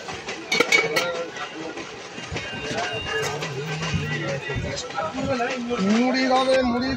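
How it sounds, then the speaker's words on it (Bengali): A local train runs into Katwa station in West Bengal, a soft rattling clatter heard from aboard under passengers' chatter. "ট্রেন এখন কাটোয়া ঢুকছে"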